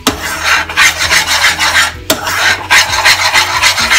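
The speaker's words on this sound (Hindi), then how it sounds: "इसको चिपकने ना दें बिल्कुल भी नीचे, इसको इस तरह से देखिए इसको भून लें।" A spoon scrapes and rasps continuously against a pan while moong dal roasts in ghee, producing loud, rhythmic stirring strokes close up with a brief pause midway.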